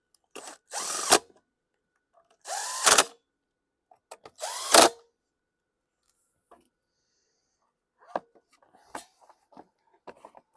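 DeWalt power drill used while working on a 2015 Troy-Bilt TB230 self-propelled lawn mower's carburetor, running in three short whirring bursts followed by faint clicks and handling noises.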